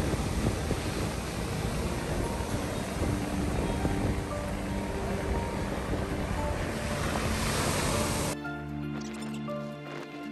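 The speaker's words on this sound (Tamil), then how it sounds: "பிளாக் சாண்ட் பீச் கருமணல் கடற்கரை" Waves wash onto a black sand beach in a loud, continuous rush of surf that roars steadily for several seconds before cutting off abruptly.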